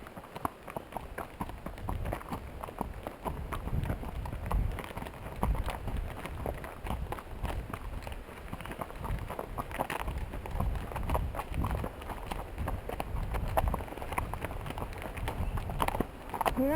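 Horse hooves clip-clop steadily along a Mill Creek trail ride, a continuous irregular patter of footfalls under broadband wind and rustling, moderately faint and close.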